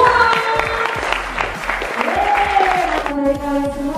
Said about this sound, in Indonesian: Sekali lagi boleh tepuk tangan untuk kalian semua.